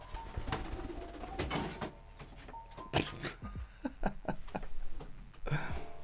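A pigeon flaps its wings in short, close bursts of flutter while also cooing, amid some soft laughter and murmuring in a room.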